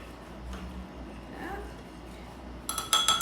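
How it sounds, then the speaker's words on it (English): A spoon stirring brown sugar in a bowl; quiet at first, ending in a short burst of bright, close clinks and taps against the bowl. "Give that a little stir."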